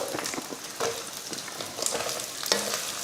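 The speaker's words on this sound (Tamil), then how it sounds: "வெங்காயத்தையும் நல்லா வதக்கிடுவோம்" Two large onions and ten chillies sauté in hot oil for a spicy dosa chutney, giving a steady close sizzle broken by scraping stirs of the spoon, with no talking.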